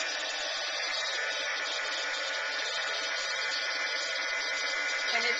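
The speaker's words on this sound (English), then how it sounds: "when you use your heat gun, it's going to dry and curl up" A heat gun blows hot air over wet Shimmerz shimmer paint on canvas, producing a continuous, even whooshing roar with no breaks.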